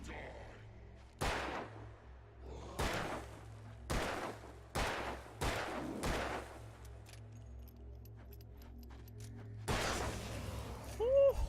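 Gunshots from a handgun in the game Alan Wake, about six sharp loud bangs spaced a second or so apart, then a short pause and a final burst, set against a quiet low background.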